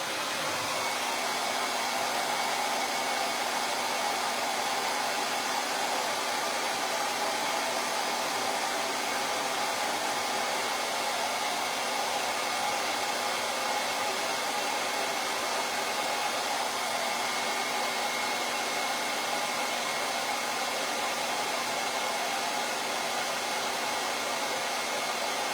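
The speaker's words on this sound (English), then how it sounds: "I need to dry these before I stick my finger in them and really mess them up." A hair dryer blows steadily and loudly for the whole stretch, drying freshly applied craft ink on a suede journal project, a constant broadband whoosh with no talk over it.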